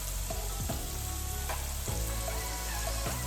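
Chopped garlic and burger ingredients fry in a pan with a loud, continuous close sizzle, broken by a few scraping stirs of a utensil, and no voices.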